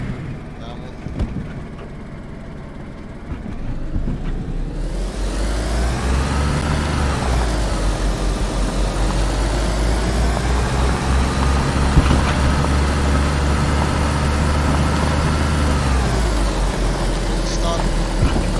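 A motor vehicle engine in a zombie apocalypse simulation video game drones steadily as it drives uphill, its pitch rising and falling with throttle, loud and continuous for most of the stretch.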